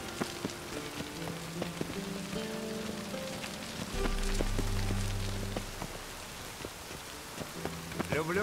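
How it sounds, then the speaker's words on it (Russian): Steady rain falls in The Witcher 3, a dense hiss of drops on surfaces that runs the whole way through, with game music tones and a low rumble rising in the middle. "Люблю дождь."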